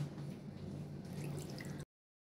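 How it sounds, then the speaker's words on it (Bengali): Water being added to a pan of hilsa fish on the stove, a steady liquid pour with faint dripping and gurgling, close and continuous for almost two seconds before cutting off. "এখন আমি এখানে অ্যাড করে নেব পানি"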